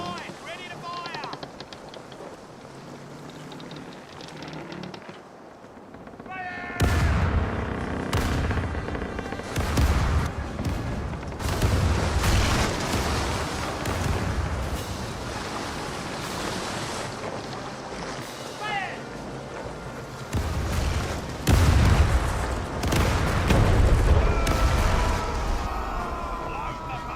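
A ship's cannon broadside in the pirate video game Caribbean Legend, with a rolling series of heavy booms and cracks over the sound of sea and waves. A voice talks intermittently between the shots.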